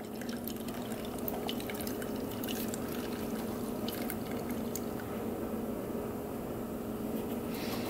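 Fluid draining from a Honda motorcycle left sitting for 50 years, a steady close trickle and pour with scattered drips over constant background noise.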